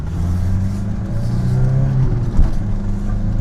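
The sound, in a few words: Audi 80 car engine running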